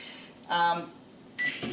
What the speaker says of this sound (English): So, relatively new microwave.